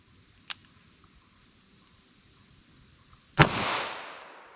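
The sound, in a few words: 22 Magnum rifle gunshot into ballistic block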